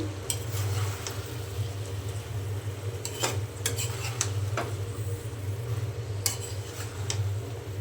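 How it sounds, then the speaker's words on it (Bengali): Bottle gourd and small potatoes cooking in a pan, a steady low simmering hiss with sharp spoon scrapes and clinks against the metal pan now and then, close and without talk. "আমি লাউ দিয়ে দিলাম আর ছোটো সাইজের দুইটা আমি আলু"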